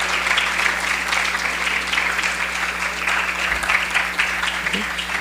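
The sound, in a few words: applause for the deputy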